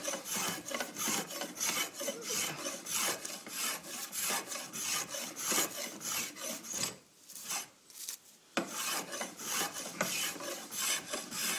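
A hand tool rasps steadily through timber while a cigar box guitar neck is shaped, a continuous rhythmic scraping of repeated strokes, close and fairly loud, with a brief pause near the end before resuming.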